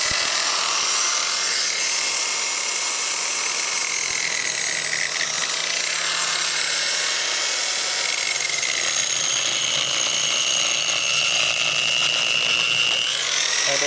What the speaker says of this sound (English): This diamond disc is a little too abrasive for this fresh concrete.